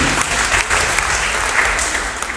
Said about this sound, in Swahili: Makofi kwa tafadhali.